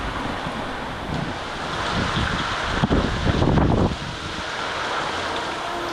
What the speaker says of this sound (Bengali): একটু বেলা বাড়তেই হাওয়া এবং বৃষ্টি দুটোই বৃদ্ধি পেল।